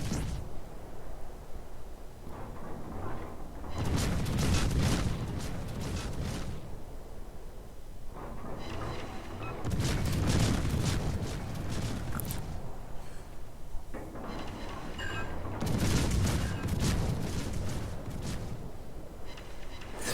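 Naval gun salvos in World of Warships, deep booming blasts with rumbling tails arriving in three heavy clusters spaced several seconds apart, loud and close over a low ambient drone.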